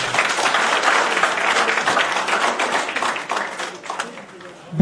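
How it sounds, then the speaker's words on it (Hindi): Loud, sustained audience applause fills a Karni Sena workers' conference rally in Jharkhand, dense clapping running steadily throughout with a sharp burst at the very end, voices mixed in underneath. "तालियां तो मजबूती से बजनी चाहिए।"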